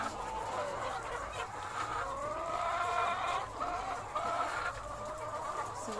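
Chickens cluck and chatter steadily in a coop, several birds overlapping at close range with a continuous low background hum.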